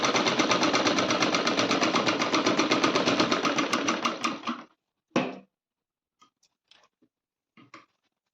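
A sewing machine runs a finishing stitch on a kachali, the bodice of a Rajputi poshak outfit, in one fast rhythmic burst of about four seconds that stops abruptly, followed by a short whir and a few scattered clicks.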